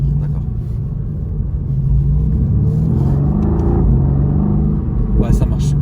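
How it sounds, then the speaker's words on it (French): A Mercedes-AMG car drives with a deep, steady engine rumble that swells as it accelerates, ending in a few sharp exhaust pops, while people talk inside the car throughout. "Elle fait des petits retours à l'échappement"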